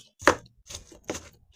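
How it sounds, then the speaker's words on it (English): Three crisp knife chops on a cutting board, close and evenly spaced, with a fourth starting at the very end, as vegetables are chopped finely for lentil stew. "We're just chopping it up real fine"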